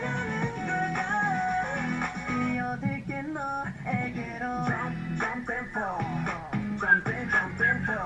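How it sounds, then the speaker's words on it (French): Melodic whistling carries a tune over continuous background music, steady and clear throughout. "J'aime beaucoup le sifflet"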